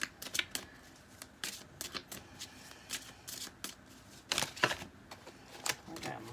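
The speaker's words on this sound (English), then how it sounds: "I've got lots of cards falling out for you guys." A deck of tarot cards being shuffled, with quick riffling bursts and soft flicks repeating in an uneven rhythm, close and fairly quiet, with no talking.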